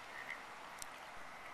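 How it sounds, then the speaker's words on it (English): Frogs croak at night near an empty campsite, a faint, steady chorus of calls in the distance over a quiet outdoor background, with no talk. "frogs keep croaking"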